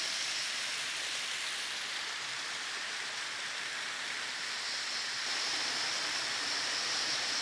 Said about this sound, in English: I'll let you take in a bit more of this waterfall here